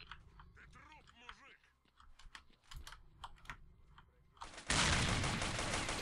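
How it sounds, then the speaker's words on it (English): Gunfire in the S.T.A.L.K.E.R. Lost Alpha game: sharp shots crack out over several seconds amid talk, then a loud, sustained burst of fire takes over near the end. "Oh, I'm getting shot from down there."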